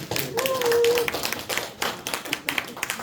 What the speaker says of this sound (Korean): 이럴 때 박수 한번 쳐야 돼요.